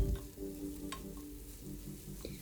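Chopped okra and egg frying in a pan, with a steady soft sizzle and brief scraping stirs over about two seconds, close up and with no voices.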